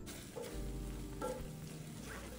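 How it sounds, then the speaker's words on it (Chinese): Onion rings stir-fried in a wok with chili shrimp sauce, a steady close sizzle with a few scraping stir strokes, with no voices. "这时候再将洋葱圈加入，稍微炒一下就好"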